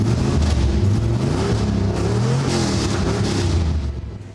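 A GM LS V8 engine in a Camaro idles loudly and close by with a deep, lumpy rumble, holding steady before easing off slightly at the end.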